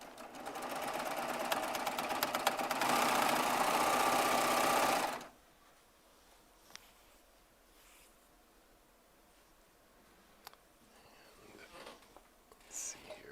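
A Baby Lock Triumph serger with worn needles running at speed for about five seconds, a loud dense whir with a fine rapid clicking, then stopping abruptly into quiet handling noises and faint speech.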